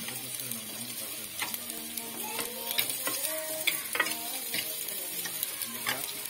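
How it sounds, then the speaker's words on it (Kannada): Onions being stirred as they fry in a clay pot, a steady close sizzle with repeated scraping strokes of the spoon running through the whole stretch, no voices. "ಚೆನ್ನಾಗಿ ಮಿಕ್ಸ್ ಮಾಡ್ಕೊಳ್ಬೇಕು ಇದನ್ನು"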